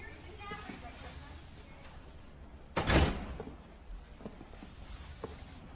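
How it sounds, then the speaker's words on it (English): A door is shut once with a sharp, loud thud midway through, amid quiet room noise with soft footsteps or movement after it. "Get in here and close the door."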